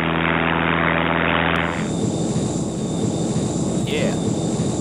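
A propeller airplane engine drones steadily and loudly in flight, a constant roar that continues while voices talk over it.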